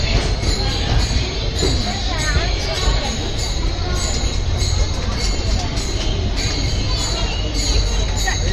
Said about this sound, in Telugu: మధురైలో క్రౌడ్ మామూలు లేరుగా